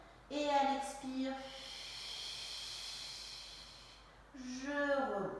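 A long, breathy exhale during a Pilates exercise hisses softly for a few seconds, framed by short bursts of a voice at the start and end.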